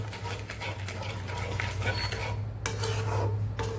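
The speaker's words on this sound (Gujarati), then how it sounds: "આપણે હલાવતું રહેવાનું છે।" A spoon scrapes and stirs thick tomato chutney with melting sugar in a pan over high heat, continuous rasping and clinking strokes with occasional soft taps against the metal.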